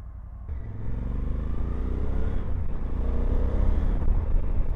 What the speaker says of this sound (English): Let's wait for this car.